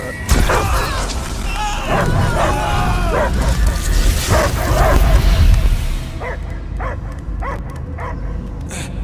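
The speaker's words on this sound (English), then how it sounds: "I hear only barking" Dog barking in the Marvel's Guardians of the Galaxy video game, with repeated yelps and barks over a dense, rumbling game soundscape. The mix thins out near the end, leaving a few sharper, isolated barks.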